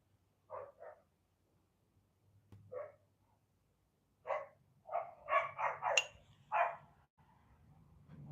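Dogs at a workshop bark in short separate bursts, a pair of yaps followed by a pause and then a louder cluster of rapid barks, fairly close against a quiet background.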